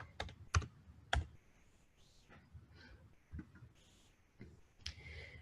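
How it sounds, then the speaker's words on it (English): Typing on a computer keyboard, a few sharp close key clicks and taps spaced irregularly, with softer keystrokes in between and no talking. "Let me actually type things correctly."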